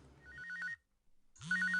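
A telephone rings in two short electronic bursts separated by a brief silence, clear and fairly close, with no one talking.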